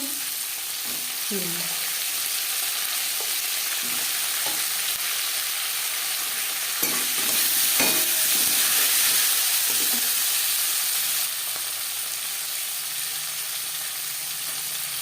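Potato pieces fry in a little oil for a cabbage ghonto, giving a steady, close hissing sizzle throughout. A few soft clinks of stirring sound over it, and the sizzle swells briefly near the middle.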